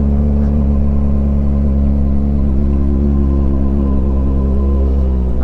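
A Kawasaki ZX25 four-cylinder motorcycle engine runs steadily close by in a residential area, a dense continuous drone with slight rises in revs and no talk over it.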